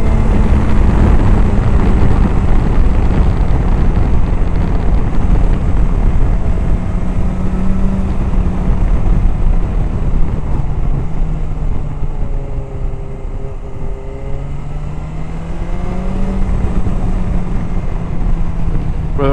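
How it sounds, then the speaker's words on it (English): A BMW S1000XR motorcycle, whose engine is a slightly detuned S1000RR unit, accelerates in a loud, sustained engine drone with rising and falling pitch and heavy wind rush while riding. "this is an S1000RR engine, which has been slightly detuned"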